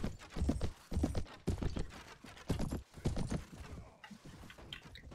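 Rapid hoofbeats from a horse in Mount & Blade Warband, loud and close, clattering in uneven bursts with a possible whinny, no talk over them.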